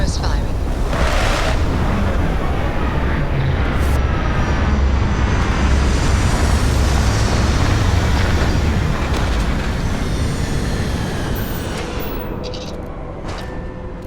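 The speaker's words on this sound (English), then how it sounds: "Landing struts primed. Retros firing." Retro thrusters firing as a spaceship lands in the game Starfield, a steady, loud, rushing roar that holds for most of the stretch and then fades slightly near the end, with a voice speaking over it.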